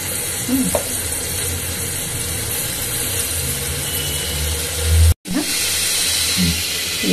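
Whole cumin seeds fry in hot oil with a loud, continuous sizzle and crackle. A few soft knocks from stirring break through, and a brief dropout comes midway.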